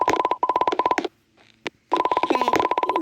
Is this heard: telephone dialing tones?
yes